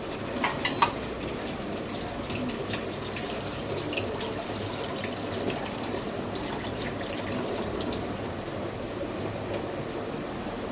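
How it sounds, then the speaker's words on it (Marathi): Running water splashes continuously as chicken is rinsed by hand, a steady close wash with a few soft knocks near the start. "आणि हे 2-3 पाण्याने धुवून घेतले आता चांगलं."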